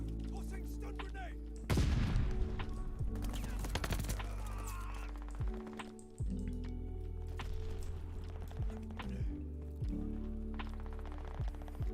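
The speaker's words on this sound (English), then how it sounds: "Tossing stun grenade." A stun grenade goes off in a video game: a sudden loud burst over constant game noise and tones, followed by scattered clicks and smaller effects.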